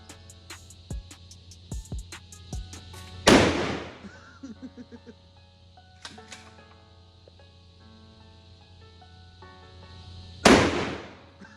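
Two loud, close blasts from a GForce Arms 12 gauge pump shotgun fired outdoors, several seconds apart, with smaller pops and clicks between them.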